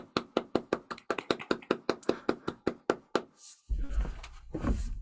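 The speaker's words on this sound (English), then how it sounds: "I'm just going to go ahead and clap on behalf of everyone." A single person claps hands close to the microphone, about fifteen sharp, evenly spaced claps in a quick steady rhythm, then stopping before a rustling, muffled handling noise.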